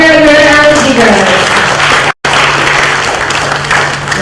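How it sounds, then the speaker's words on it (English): Symposium audience applause for the moderator and speakers, a loud, sustained wash of clapping in a hall with a tonal voice or feedback fading in the opening moments and a brief dropout midway. "we give big applause to moderator and speakers"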